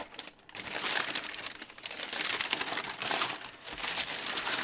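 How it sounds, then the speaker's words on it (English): Brown and white tissue paper being pulled out of a Nike Air Jordan 12 Cherry sneaker box, with continuous close crinkling and crumpling that rustles steadily for several seconds with no talking. "Removing the paper,"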